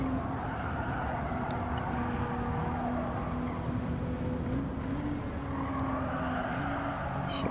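A racing car engine in WTC 600 drones at high, steady revs in seventh gear on the Tokyo East circuit, a loud continuous tone with faint tire and wind noise and no talk.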